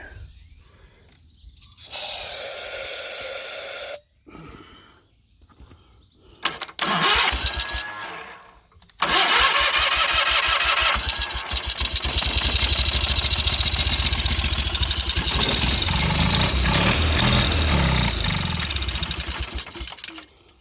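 A Cub Cadet 1812 lawn tractor engine cranks and sputters in short bursts, catches, then roars steadily and loudly for the rest of the clip with no talking.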